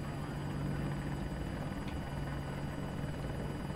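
An attack helicopter in the video game Battlefield 2042 gives a continuous, steady rotor and engine drone at even volume throughout, with no talk.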